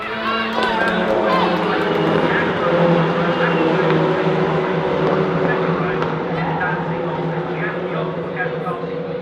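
Renault Clio Cup race cars pull away at the start of a race at Silverstone, a loud dense pack of engines droning and revving together while a commentator talks over them throughout.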